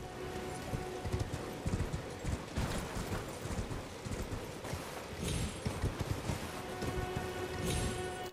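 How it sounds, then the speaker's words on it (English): Horse hooves clip-clopping at a run in the open-world fantasy action game Elden Ring, a steady rapid rhythm under a rain-like hiss, with faint voice in the background. "It's got to be a bit nimble with the horse there"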